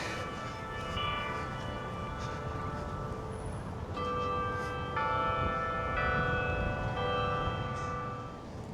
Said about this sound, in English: we can hear the chimes of the tower over there going off